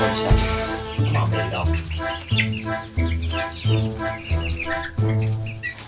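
Twelve young homestead chickens cluck in repeated, rhythmic bursts close by, with steady tonal calls and scattered higher chirps throughout.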